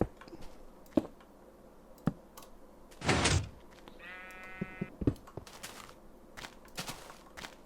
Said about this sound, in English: Oh my god, it's another pink sheep